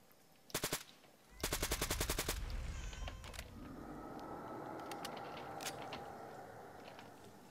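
Player-fired gunfire in the video game Pointman comes as a short automatic burst followed by a longer rapid volley, close and loud, then a low rumbling game ambience with faint mechanical clicks.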